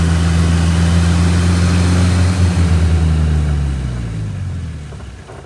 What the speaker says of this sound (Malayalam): വണ്ടി ഇങ്ങനെ ശരിക്കും ബുദ്ധിമുട്ടി വലിപ്പിച്ച് കൊണ്ടുപോകാം കേട്ടോ